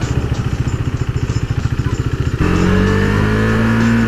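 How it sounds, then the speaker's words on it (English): A KTM 390 Duke single-cylinder motorcycle chugs with a rapid, pulsing engine beat, then the throttle opens into a loud, rising rev, heard close up without talk. "Run out of revs very quickly in this first gear."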